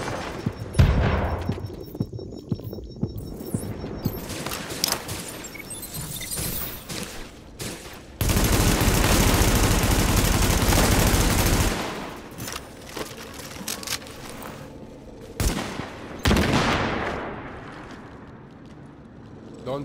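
Machine gun fire in The Division's Dark Zone crackles in loud, close bursts, with one long sustained volley in the middle and scattered shots around it.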